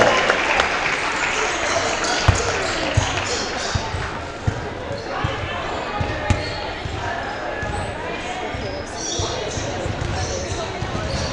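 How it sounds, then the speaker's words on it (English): Gym crowd at a Lake Havasu High School volleyball senior night applauding the seniors, a continuous loud roar of clapping and cheering with occasional sharp thumps, steady across the whole stretch. "let's give our seniors one more round of applause"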